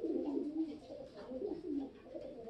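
Soft, low cooing from a racing pigeon repeats in rolling, throaty phrases, close by and steady throughout with no talking.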